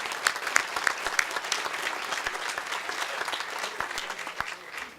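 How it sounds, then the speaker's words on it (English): Audience applause at a 2012 Gathering of the Eagles event in a private home, a steady dense patter of many hands clapping for about five seconds, close and fairly loud, with no talk over it. "Let's give them a big round of applause."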